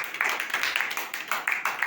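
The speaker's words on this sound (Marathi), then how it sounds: "टाळ्या वाजवा रे यांच्या नावाने पोरांनो" A group of boys claps together on command, loose rhythmic bursts of hand claps arriving in uneven waves, fairly close and moderately loud, with no talking over them.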